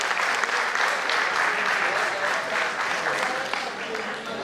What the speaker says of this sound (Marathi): जोरदार टाळ्या होऊन जाऊ त्यांच्यासाठी